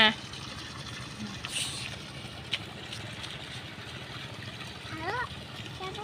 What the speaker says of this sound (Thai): แต่ว่าน้ำไหลตลอดเนาะ แบบนี้เลย